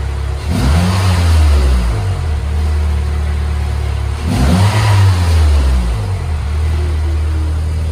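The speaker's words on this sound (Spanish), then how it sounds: "al aumentar el régimen de giro del motor, la carga del motor, vemos como la señal varía" A car engine revving during a MAP sensor oscilloscope test: two loud rises in revs, each climbing and then settling back to a steady idle hum, heard up close.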